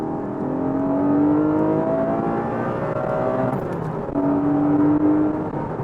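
A Porsche Boxster GTS 4.0 engine pulls hard through the gears, a loud, close rising rev that drops briefly at a gear change around the middle, then climbs again, with no talking over it.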